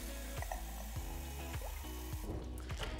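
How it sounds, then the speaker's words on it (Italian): A coffee machine part is lowered into water for cleaning and descaling, giving close, quiet sloshing and gurgling with small dribbles and drips over about three seconds, no speech. "E poi lo mettiamo in acqua"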